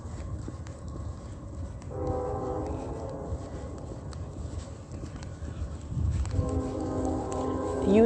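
A train passes in the distance over a constant low outdoor rumble, with two drawn-out, horn-like tones sounding faintly some seconds apart.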